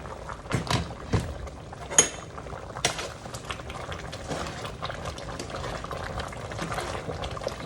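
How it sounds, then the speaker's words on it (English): A pot of liquid with tomatoes, corn and okra bubbles hard on a stove, giving a continuous close burbling and popping with occasional clinks of a pot or utensil. "oh, it's really boiling."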